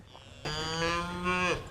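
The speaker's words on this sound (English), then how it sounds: "I've never heard them moo as much." Calves being weaned low out in a long, loud moo at evening bottle time, a single sustained bawl rising out of quieter farm background, near and clear with no voices.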